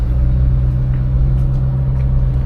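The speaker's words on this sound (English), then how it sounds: "LS2 already sounds good on its own, but with the borla exhaust, it does wake it up just a little bit" A 2006 Chevy Corvette C6 with an LS2 V8 and Borla exhaust idles with a steady, deep, close rumble that stays even throughout, with no voices.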